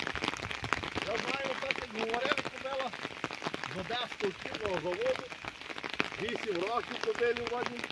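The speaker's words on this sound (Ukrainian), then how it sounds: "Трошки у нас дощова погода" Rain patters steadily on a surface throughout while people talk nearby over the constant crackling drizzle.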